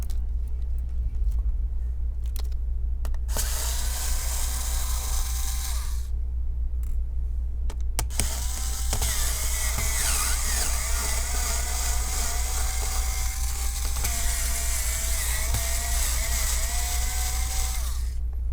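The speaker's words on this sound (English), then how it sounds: "we are pretty much down to removing the screw on the motherboard" Whirring power-driver motor drones steadily as screws come out of the motherboard of an Acer Aspire A515 laptop during a teardown, with a loud constant hum beneath and short pauses between runs.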